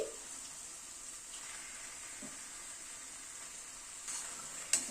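Chicken goes into a hot pan of tomato-spice paste and sizzles with a quiet, steady hiss that runs throughout, broken by a few faint clinks and a sharp scrape at the end.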